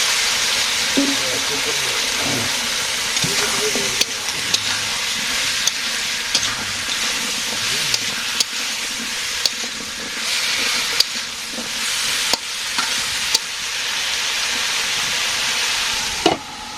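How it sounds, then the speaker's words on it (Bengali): Onion, spices and vegetables fry in a pan with a steady loud sizzle and hiss. Spoon and pan knocks are heard now and then, with faint background sounds under the frying. "মশলাগুলো একটু কষে নিলাম পেঁয়াজ মশলা এখন সবজি দিয়ে নেই"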